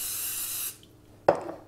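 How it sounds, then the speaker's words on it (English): A short hissing burst of cooking spray onto a liquid measuring cup, a brief pause, then a second quick spritz close by. "Simply spray a liquid measuring cup with cooking spray."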